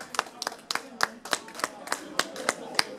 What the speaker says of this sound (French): On l'applaudit encore, s'il vous plaît